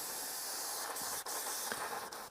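An Evolution X airbrush sprays paint in a continuous close, bright hiss, with a couple of brief breaks where the trigger is released.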